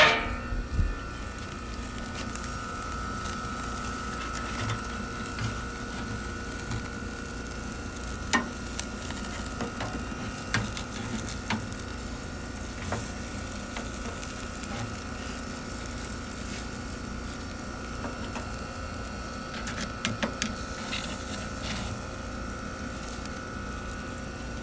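A bun toasts and sears on a hot surface for a BBQ rib sandwich, giving a steady, moderately loud sizzle with a few faint clicks and scrapes, no talking.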